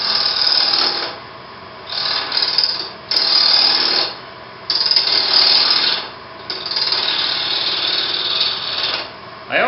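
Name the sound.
wood lathe turning a sphere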